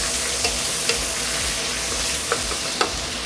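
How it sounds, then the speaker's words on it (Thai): Onion and tomato sizzle steadily in a hot pan while a spatula scrapes and clicks against the metal every second or so. "ผัดให้หอมพร้อมกันก่อน"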